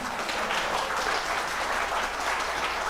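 Congregation applauding during a Unitarian Universalist worship service, a steady, dense round of clapping that fills the room evenly from start to finish.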